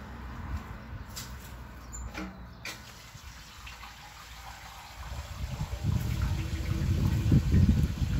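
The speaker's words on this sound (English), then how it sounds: "we'll fill this thing full of water" Water running into a container outdoors on grass, starting as faint trickling and building to a louder, fuller gush of filling liquid toward the end, with no talking.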